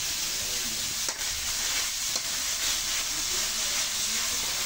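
Miso sautéing in a hot pan for sinigang sa miso, giving a steady, close sizzling hiss that runs unbroken throughout with a couple of faint clicks.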